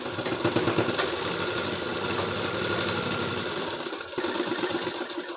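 Electric sewing machine stitching the folded hem of a blouse, a loud continuous rapid mechanical whir and clatter with a short pause near the end before stitching resumes.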